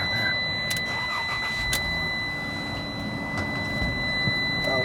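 A 2014 Ram ProMaster Cargo 3500 high-top van engine turns over and settles into a steady, fairly loud idle, with thin electronic chime tones sounding above it and no talk.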